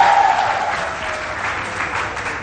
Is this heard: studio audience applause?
yes